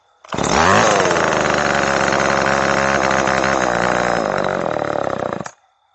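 Gray vintage Homelite XL chainsaw engine, recently repaired, starts up and runs with a loud, close, buzzing rasp for about five seconds, then cuts off abruptly.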